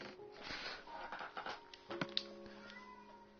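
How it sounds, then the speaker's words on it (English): A whiny house cat meows and whines several times in short, uneven bursts indoors, faint and somewhat distant, with a quiet electronic hum underneath and no talking. "I have a whiny cat. I don't know if you can hear him."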